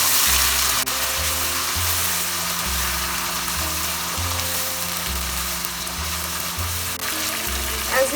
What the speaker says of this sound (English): Saute the masala until the oil separates.